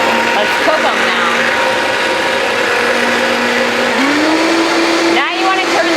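A Vitamix 5200 blender runs at low speed mixing ingredients, a loud, steady motor whine that climbs in pitch partway through and then holds at the higher speed.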